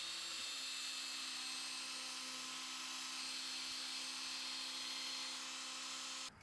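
A Snap-on cordless transfer pump runs with no load, giving a steady high-pitched motor whine close by that holds even for several seconds, then cuts off abruptly at the end.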